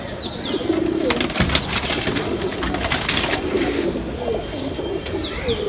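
A Jhuma punky pigeon coos among other pigeons in a loft, low repeated throaty calls under a busy wash of chirps and fluttering.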